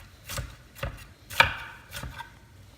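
A kitchen knife chops through an onion on a cutting board, five crisp separate strikes at an uneven pace, close and clear against a quiet background.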